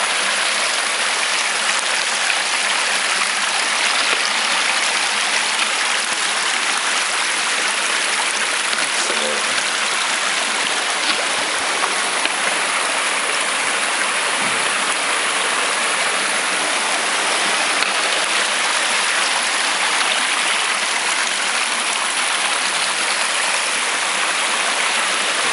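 The Pigeon River flows past in a loud, continuous rush of water, a dense steady roar that never lets up and is close at hand.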